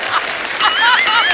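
A voice imitates the hiss and crackle of an anar fountain Diwali firecracker in one short, loud burst of whooshing and whistling vocal sounds.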